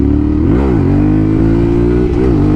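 Yamaha Tenere 700 Rally Edition motorcycle accelerating hard, its engine note rising and falling with throttle and gear changes, loud and close throughout with no talking.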